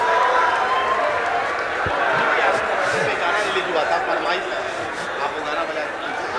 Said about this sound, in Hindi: एक बार ताली बजा दीजिए आप लोग